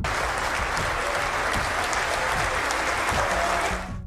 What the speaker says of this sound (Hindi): ऐवान एक बार फिर तालियों से गूंजने लगा